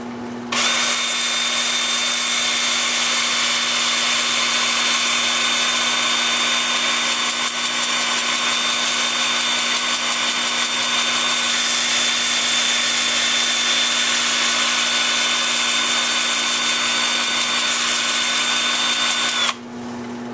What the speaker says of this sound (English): with my 2-inch sanding disc starting at 80 grit. The lathe is gonna be spinning forward at about 340 RPM